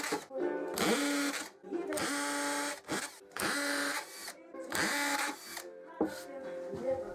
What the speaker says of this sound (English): Then I drilled some ventilation holes through the base panel of the birdhouse.